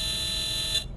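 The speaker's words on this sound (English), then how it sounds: "that's the reverse light, there's the reverse buzzer" Reverse buzzer of a 2010 Caetano Levante Volvo B9R coach in the OMSI 2 bus simulator: a steady, loud electronic tone held for most of a second, then cutting off abruptly.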